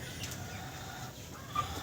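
Chickens on a poultry farm cluck softly and intermittently, faint and somewhat distant against a low steady background.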